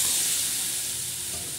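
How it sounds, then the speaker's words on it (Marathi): Black masala spices for goat mutton roast in a pan with a steady, close hiss and sizzle that holds level throughout and has no voices over it. "आता हा मसाला मस्त भाजून घ्यायचा"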